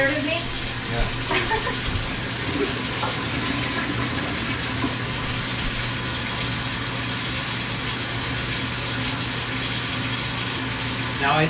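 A plugged, clogged toilet flushes with a steady, loud rush of water that runs continuously for several seconds in a small bathroom, and a person briefly speaks near the end.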